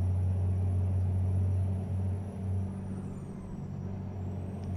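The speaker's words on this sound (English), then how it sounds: "this turbo does sound good" Steady truck engine drone with turbo whine in American Truck Simulator, a strong low rumble holding constant throughout, with a faint high whistle above and no talking.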